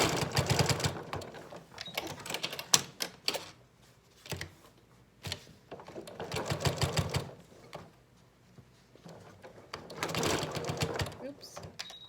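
Sewing down a Yup'ik qupak on a sewing machine, with three bursts of close machine stitching separated by pauses filled with clicks and handling noise.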